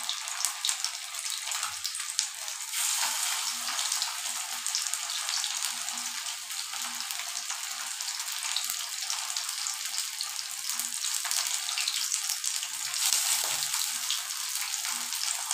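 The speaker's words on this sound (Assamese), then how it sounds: "অকণমান তেল দি কেনে ফ্ৰাই কৰি চাম" Lote fish fritters frying in hot oil, giving a steady, bright, close-up hiss of sizzling that continues evenly throughout with faint occasional bubbling.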